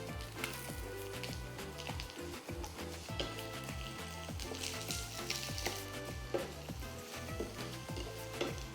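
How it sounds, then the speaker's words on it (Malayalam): Sliced onions sautéing with browned coconut pieces for a Kerala chicken roast, a quiet, steady sizzle with occasional stirring, set against rhythmic background music. "നമുക്ക് അതുകൂടി ഒന്ന് ഇട്ടിട്ട് ഒന്ന് വഴറ്റിയെടുക്കണം."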